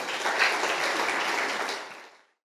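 A church congregation applauds during a Father's Day service, a full burst of dense clapping that holds steady and then fades away into silence.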